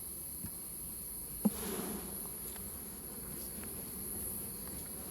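A faint, steady hum of honey bees inside a stacked hive comes through a quiet background, with one or two light knocks and no voices.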